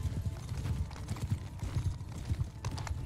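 Horses gallop in quick, uneven clip-clop rhythm during a mounted battle chase after horse archers in Mount & Blade II: Bannerlord, a steady near pounding of hooves with no talk.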